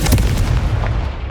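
The Confringo fire spell from the Hogwarts Legacy video game lands as a loud, close explosive boom with a rumbling tail.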